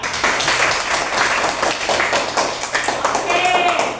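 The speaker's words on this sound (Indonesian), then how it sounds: "Kita beri tepuk tangan untuk kawan kita." A classroom of students claps for a classmate, a dense, close burst of hand claps lasting a few seconds with a voice briefly audible over it.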